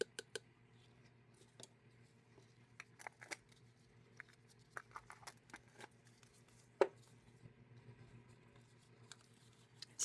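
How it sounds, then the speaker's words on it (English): Rose gold glitter stirred in a cup, giving soft scattered clicks and light scraping taps at an irregular rhythm against a quiet room hum, with one sharper knock near the middle. "So we're just going to stir it up."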